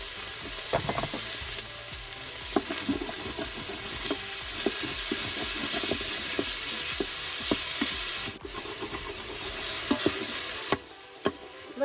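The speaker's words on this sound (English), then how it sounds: "I'm going to saute it just for a little bit to give it a little caramelization" A small onion sautés in an Instant Pot, making a continuous close sizzle broken by spatula stirs and scrapes, with a brief dip near the end and no voices.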